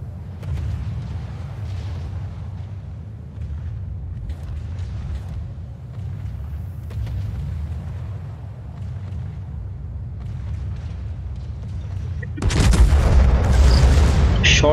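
Naval gun salvo from a warship in a World of Warships-style battle, the Alsace firing on an Odin: a long low rumbling engine and sea drone, then a sudden loud, broadband booming salvo blast near the end.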